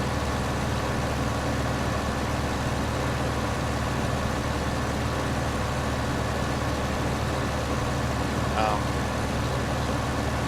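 Tractor in a farming game running its engine, a steady low droning rumble that holds unbroken throughout, loud and close, with a brief faint chirp near the end.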